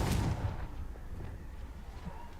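Confringo blasting spell fired in Hogwarts Legacy, a single loud booming blast at the start that rolls off into a fading rumble, with no voices.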